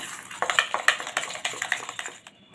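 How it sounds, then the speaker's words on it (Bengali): A spoon tapping and scraping against a bowl while mixing mango yogurt with sugar, a quick run of light clinks and rattles that slows to a stop near the end, close and fairly quiet. "খুব ভালো করে আমি মিশিয়ে দিচ্ছি"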